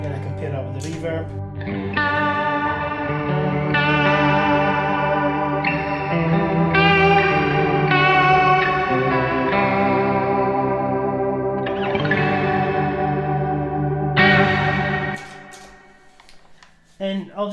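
Electric guitar chords ringing out with a spacious reverb, several strums blending into a long washy sustain that fades out at the end.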